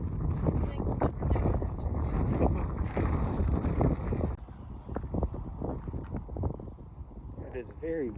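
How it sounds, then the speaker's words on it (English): Strong wind at the Astoria Column buffets the microphone in loud, rumbling gusts, easing partway through, with voices talking underneath. "It is very windy."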